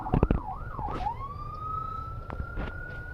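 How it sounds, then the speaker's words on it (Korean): An emergency vehicle siren wails up and down a few times, then holds a long steady tone, moderately loud above low street and traffic noise. "이런 차들이 달릴 때 이머전시 상황이면은 사이렌을 울리면서 가잖아요."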